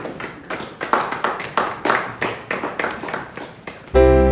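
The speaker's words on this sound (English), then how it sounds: "So please, a round of applause as she comes." An audience at an expo claps in a steady, fairly even rhythm for a few seconds, then a loud sustained electronic tone abruptly cuts in.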